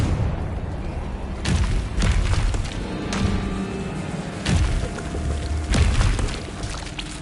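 A Confringo fire-blast spell in Hogwarts Legacy on PS5 sets off several separate booming thuds and explosive bursts over a few seconds, loud and close, with rumbling debris between impacts.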